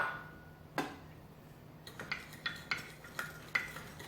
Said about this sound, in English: We're gonna take our rice vinegar, and we're gonna mix it with the sugar, okay, until it gets dissolved.